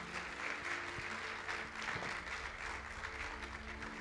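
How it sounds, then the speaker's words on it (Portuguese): A congregation at an Easter church service claps steadily in praise, a continuous wash of applause from many hands at moderate distance, with no voices standing out. "Aplauda ao Senhor Jesus."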